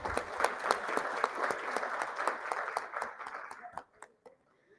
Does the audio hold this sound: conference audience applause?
yes